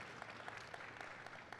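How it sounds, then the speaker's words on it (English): Steady applause from a crowd at a college football media day, dense and continuous clapping heard at a moderate distance. "give a round of applause for the coaches in the room right here"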